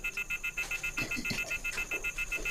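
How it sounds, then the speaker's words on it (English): Rapid pulsing beeps of a car anti-theft alarm sound steadily, with some faint background movement underneath and no speech. "there's an alarm I installed in the car"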